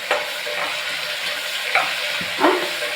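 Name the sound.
spinach frying in a pan for sambar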